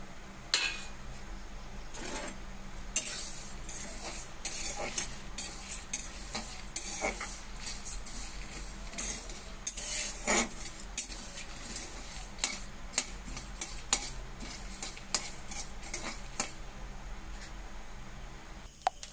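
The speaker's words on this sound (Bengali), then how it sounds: "আমি গ্যাসটা অন করে কড়াই বসিয়ে দিয়েছি কড়াইটা হালকা গরম হয়ে গেছে কড়াইটা গরম হয়ে গেছে আমি এবার সব দিয়ে দিলাম একসাথে" Whole spices roast in a hot kadai on a gas stove for a raw mango pickle, with a faint sizzle and frequent metallic scrapes and taps of a spoon stirring, close by and without speech.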